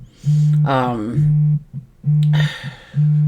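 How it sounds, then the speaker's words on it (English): A phone notification chimes repeatedly, a steady electronic tone pulsing on and off in regular beeps, with someone talking over it between the tones. "I have my phone going off"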